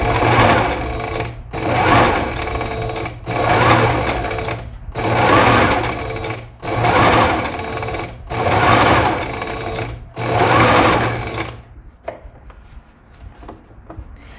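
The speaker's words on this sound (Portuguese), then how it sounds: "Dou o retrocesso e venho costurando." A sewing machine backstitching and stitching a neckline facing, running in seven even bursts of steady whirring separated by short pauses, close and loud, ending in quiet handling sounds.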